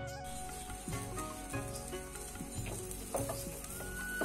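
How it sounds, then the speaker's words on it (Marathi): An eggplant roasts on a wire mesh over a gas flame, a soft, steady sizzle and crackle with faint scrapes as it is turned, heard close up without speech. "गॅसवरती जाळी ठेवून आपल्याला असे वांगे भाजून घ्यायचे"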